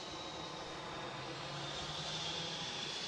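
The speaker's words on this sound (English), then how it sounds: "the Ryanair on screen has just arrived from Budapest" A Ryanair airliner just in from Budapest rumbles steadily at Edinburgh Airport, a continuous engine roar with a thin high whine held at moderate distance, no voices over it.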